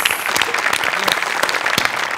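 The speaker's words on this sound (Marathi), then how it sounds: "त्यांच्यासाठी टाळ्या वाजवायला पाहिजे." A studio audience at a Marathi comedy show claps loudly and continuously, a dense, close round of applause with a voice faintly underneath.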